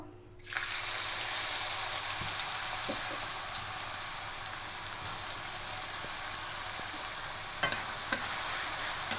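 Shredded potato deep-frying in hot oil for crispy aloo jhuri gives a steady, dense sizzle that holds evenly throughout, with a couple of faint clicks near the end.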